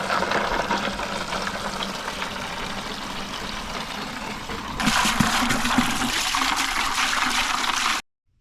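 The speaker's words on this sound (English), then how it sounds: "Got some ice in this bucket. We're gonna fill it up some water." Water pours into a bucket holding ice, a steady broadband rush that grows louder and brighter partway through the fill before stopping abruptly.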